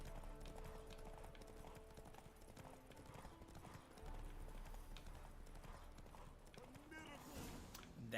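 Roach, the horse in The Witcher 3, clip-clops along in a steady run of hoofbeats, heard faintly in the game mix with muffled voices and ambient sound around it.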